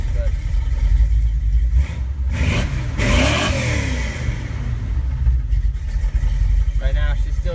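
A 1985 Chevy short-wide pickup's engine idles while warming up, a steady low rumble with a brief rev in the middle, under someone talking nearby.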